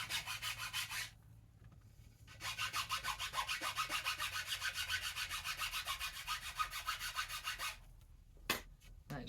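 A hand rasp shaping the nock on a wooden yew bow, steady rhythmic rasping strokes in a long run, close and fairly loud, with brief pauses before and after and a few sharp scrapes at the end.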